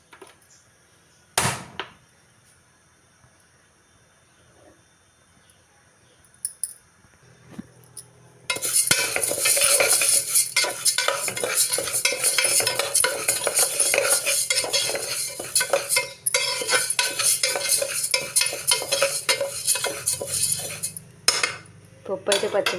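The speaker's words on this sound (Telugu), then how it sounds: "ఇప్పుడైతే నేను పప్పునైతే వేపుకొని" A metal spoon scrapes and stirs lentils (dal) roasting in a pan, making continuous close scraping and clinking with soft sizzling. A single clink comes first, then stirring becomes steady after a few quiet seconds.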